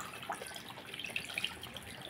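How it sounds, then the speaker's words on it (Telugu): Tamarind juice trickles and splashes softly into a pot, a faint, brief pouring sound with light drips. "ఇదిగోండి చింతకాయ పులుసు వేస్తున్నాను"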